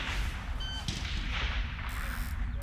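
A rimfire rifle shot at a precision rifle match on a windy range goes off as a single sharp crack over heavy, steady wind rumble buffeting the microphone.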